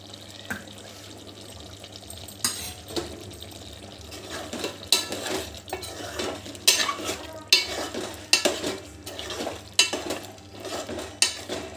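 Mutton curry sizzles in a pan with masala while a spoon stirs and scrapes against the metal in irregular clinks and swishes, steady frying underneath.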